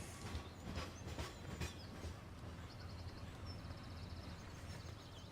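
A departing train in Farming Simulator 17 rumbles steadily with clattering wheel sounds, accompanied by faint high squealing tones midway, all without talk.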